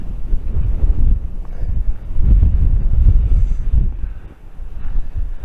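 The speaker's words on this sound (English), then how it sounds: "It's very windy" Strong, steady wind buffets the microphone throughout at St Catherine's Oratory, a loud low rumble rising and falling in gusts with no voices.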